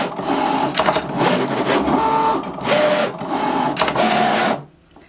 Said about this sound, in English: it will go ahead and cut each of your notepad pieces.